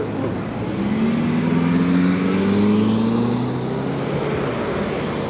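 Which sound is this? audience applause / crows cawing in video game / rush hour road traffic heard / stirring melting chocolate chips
rush hour road traffic heard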